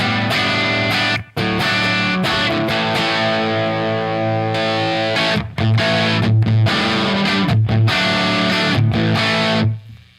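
Electric guitar, a Telecaster, through a 6L6 tube amp with heavy distortion plays loud sustained chords and bluesy riffs, with a few brief cuts.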